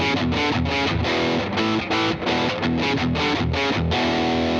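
Electric guitar with distortion and a boost pedal through an amp, driving a continuous, dense riff of rapid palm-chugged chords and brief gaps, loud and near throughout, with no voice.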